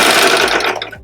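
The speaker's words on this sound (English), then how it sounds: "sliding it under the presser foot and stitching" A serger runs in a loud, rapid, continuous stitching burst while sewing a folded fabric tag onto a napkin, then winds down and stops.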